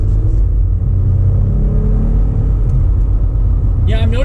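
A 2020 Jeep Gladiator Overland accelerating out of a turn, a loud steady engine drone and road rumble heard from inside the cab, with a voice starting at the very end.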